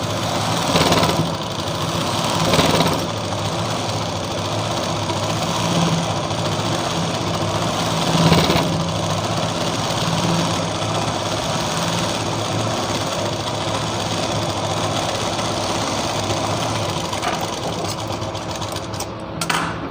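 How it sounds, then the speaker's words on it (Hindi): A sewing machine stitches salwar fabric pieces with a half-inch seam, running as a continuous close mechanical whir with slight surges throughout. "आधा इंची की दूरी से सिलाई लगा के कली और पार्ट को दोनों को अटैच कर देना है।"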